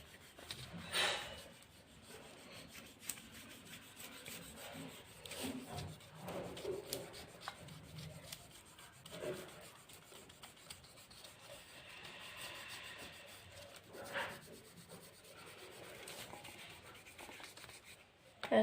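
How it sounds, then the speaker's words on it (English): An eraser rubs out light pencil lines on paper, making soft, faint scrubbing strokes in irregular bursts close by, quiet throughout with no talking. "Now with the help of eraser, erase all the lines"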